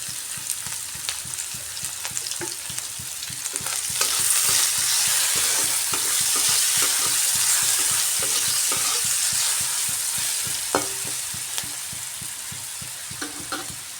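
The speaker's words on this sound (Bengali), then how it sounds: "এবার ওই তেলের মধ্যে কেটে রাখা আলুটা ভেজে নিচ্ছি।" Cut potatoes frying in hot oil for a sweet potato leaf greens dish, a loud continuous sizzle with rhythmic stirring scrapes throughout, no talk.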